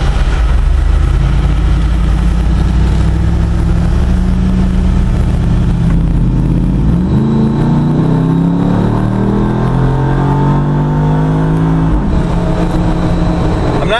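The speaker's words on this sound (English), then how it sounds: "Now I'm gonna roll the throttle on here a little in the automatic mode." A Jeep fitted with an LS3 V8 revs hard under throttle in automatic mode, a loud, steady engine roar climbing in pitch through several rising sweeps, close and dominant with no talking.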